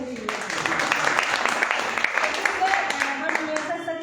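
Seminar audience at a business leadership training event breaks into sustained applause, a dense wash of many hands clapping that holds steady for about four seconds with no voices over it.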